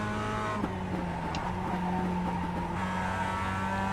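Mazda MX-5 Cup race car in iRacing at Okayama International Circuit, its engine holding a steady, droning note under load with slight pitch shifts, continuous and fairly close, no talking.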